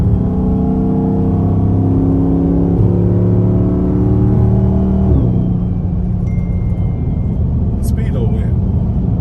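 Car with a 392 V8 engine and aftermarket headers pulling hard, its low exhaust drone rising in pitch through a gear, then dropping into a rough rumble after a shift, loud and close from inside the cabin.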